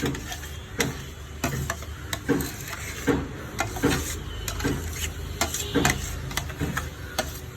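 Salted mango pieces are stirred into mango pickle in a pan, with repeated clacking scrapes of a spoon against the pan over a faint sizzle, close and steady.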